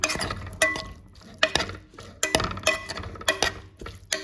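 Meat is stirred in a cooking pot with a utensil, making rhythmic scraping strokes and metallic clinks against the pot about once every half second, with faint sizzling underneath.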